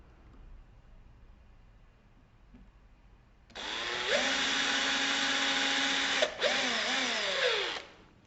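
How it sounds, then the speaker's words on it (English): Quiet room tone, then a power drill whirs up loudly and runs steadily for several seconds drilling pilot holes, briefly dipping in pitch under load before stopping. "So now I'll carefully drill my pilot holes."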